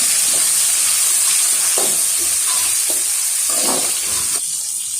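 Onion and tomato sauté in a pan for a prawn thokku, a loud steady sizzle with scattered stirring scrapes and clinks close by.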